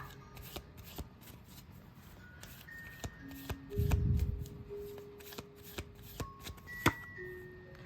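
Angel oracle cards being shuffled by hand, soft close riffling and sharp flicking snaps at irregular intervals, with one longer rustling burst midway, faint and without talk.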